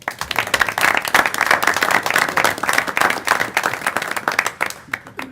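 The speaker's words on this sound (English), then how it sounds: "I think we owe him a round of applause" An audience at a public works committee meeting gives a steady round of applause, dense overlapping claps sustained at moderate loudness for several seconds before beginning to thin out near the end.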